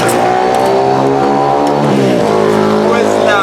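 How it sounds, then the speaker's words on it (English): Motorcycles passing by on a street outdoors, a loud close engine roar rising and shifting pitch as they go by. "Ooh, motorcycles."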